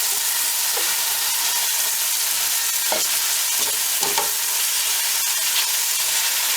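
A masala mixture with tomatoes sizzles and fries steadily in a pan for dal banjara, with a few soft stirring scrapes and no talking.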